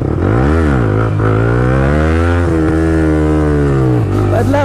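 A TVS Apache motorcycle revs hard and close, its engine note rising and falling in repeated swells before settling into a steady, loud drone with a final surge near the end.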